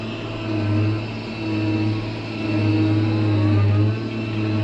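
A Nuhn alley vac truck's engine held at maximum throttle in first gear, giving a loud, steady, close droning roar that swells and eases slightly across its length, with no voices.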